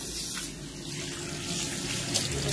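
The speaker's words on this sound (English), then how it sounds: "You can see he's washing his hands. Wash, wash, wash, wash, wash." Hands being washed under a running kitchen tap, a steady close splash of water into a sink with slight changes as the hands move through the stream.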